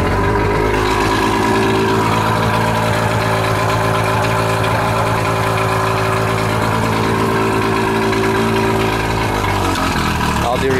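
A vehicle engine idles steadily in gear with a transmission engaged, a continuous loud mid-low rumble holding even throughout with little change in pitch, close to the listener.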